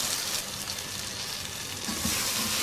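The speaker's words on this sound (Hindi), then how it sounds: "अच्छी तरह से फ्राई करेंगे 3-4 मिनट।" Vegetables frying in a pan for a Muharram niyaz dish, a dense, continuous sizzle close up with faint stirring scrapes and no talking.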